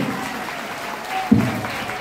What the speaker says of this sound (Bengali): জোরে হাত তালি দিয়ে সম্মানিত করুন।